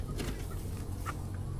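Chickens at a rural house construction site in a Philippine province, several short clucks heard faintly over a steady low background rumble.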